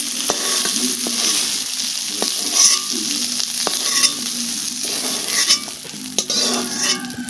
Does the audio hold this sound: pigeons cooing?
no